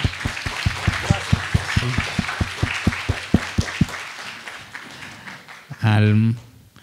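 Applause for Luis Bastida at an academic colloquium, sharp individual claps from a small audience, loud at first and thinning out, followed by a voice speaking.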